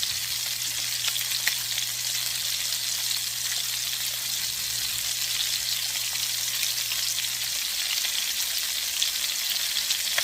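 Pork chops fry in a pan with a constant, crackling sizzle like light rain and a low steady hum beneath, no voices present.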